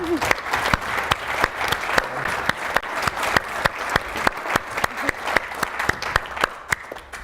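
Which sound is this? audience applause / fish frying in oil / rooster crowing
audience applause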